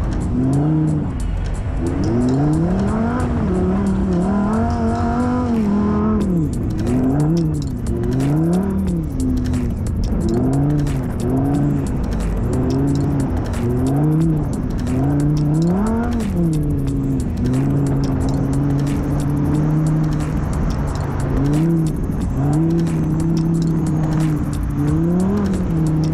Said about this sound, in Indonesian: Huracan Evo. Beda banget sama Lamborghini Urus.